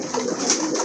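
A flock of pigeons kept for sale, local and foreign breeds, coos loudly and continuously in a dense, overlapping murmur with no speech.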